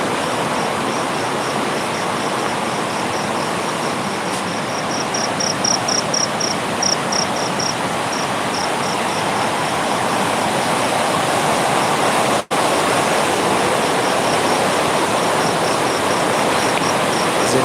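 A loud, steady rush of spring water flowing nearby, a dense broadband roar that holds constant throughout with a faint high chirping above it and no voices.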